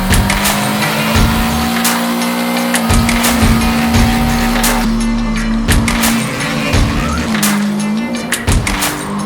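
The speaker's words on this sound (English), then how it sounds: "everyone's been having fun with it, doing burnouts" A 2001 MG F doing burnouts, its engine revving in repeated loud bursts over a sustained tire squeal, close by, with sharp rises and drops in revs throughout.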